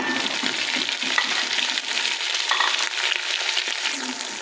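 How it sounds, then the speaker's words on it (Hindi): Chopped tomatoes frying in a pan for an aloo gobhi curry make a continuous loud sizzle with faint stirring clatter, unbroken and without talk. "इसको भी हम भूनेंगे 2 मिनट।"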